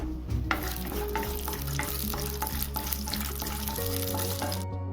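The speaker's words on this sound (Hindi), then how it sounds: "और इसी में पहले मूंगफली भून कर निकाल लेंगे" Peanuts roasting in hot oil in a heated kadai, a steady close sizzle with scraping stirs and clinks throughout, with low background hum.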